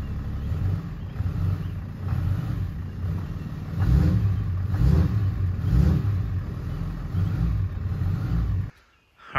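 A Cummins diesel truck engine, a G56-equipped pickup, idles with a steady low rumble and slight pulsing swells, running close by for most of the clip before cutting off abruptly near the end.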